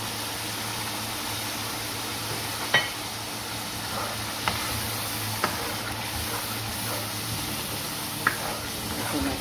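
Mutton keema with peas frying in a pan, giving a steady low sizzle with a few sharp knocks of a spoon against the pan, quiet and close.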